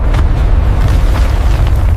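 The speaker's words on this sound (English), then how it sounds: "A violent explosion of steam, ash." A volcanic explosion of steam and ash as magma meets ice comes through as a loud, continuous deep roaring rumble with no break and no voices.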